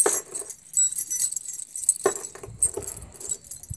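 A bunch of keys jangles and clinks in short bursts, close and fairly loud, with brief pauses between shakes, while a monkey plays with them.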